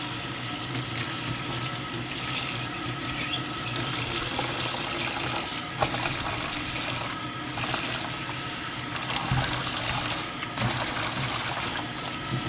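Running water rinsing hair during a shampoo and conditioner wash, a steady close splashing stream that continues without a break, with small splatters and no talking.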